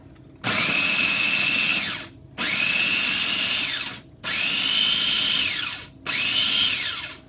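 Food processor with a locking bowl and lid chopping onion and garlic: four loud whirring bursts of about one and a half seconds each, separated by short pauses, with no talking.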